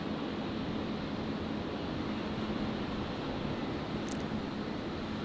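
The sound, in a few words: Nauru Airlines Boeing 737-300 aircraft at Brisbane airport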